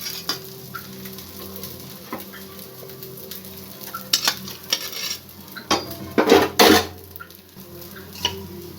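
Fried maida tiffin being lifted from hot oil onto a plate, with soft sizzling underneath and scattered metal scrapes and clinks of a utensil against the pan and plate, a few sharper knocks near the end.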